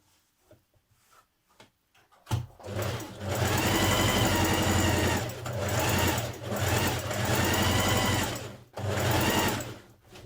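A sewing machine runs loud and close in long steady bursts, stitching the underarm seam of a dress sleeve, with brief pauses between runs.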